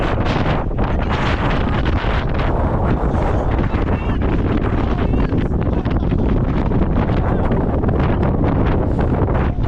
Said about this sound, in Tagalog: Kasi napakalakas ng hangin. The wind is very strong.